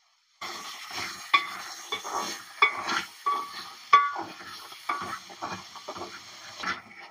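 Tempering for rajma guggillu, a kidney bean stir-fry, sizzles in a pan, with close, crackling bursts and spoon clinks against the metal as it is stirred, and no voices.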